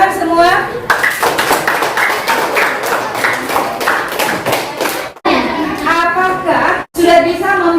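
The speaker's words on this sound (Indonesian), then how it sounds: "tepuk tangan semua." Classroom of children clapping together after a lesson answer, a dense burst of hand claps with thumps and taps, broken by brief pauses and overlapping children's voices.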